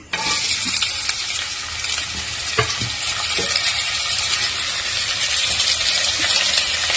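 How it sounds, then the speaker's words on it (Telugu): Onions hitting hot oil in a kadai give a loud, steady sizzle and hiss with a few scattered pops and stirring clinks, close up and without talk. "ఆయిల్ హీట్ ఎక్కిన తర్వాత ఆనియన్స్ వేస్తున్నా"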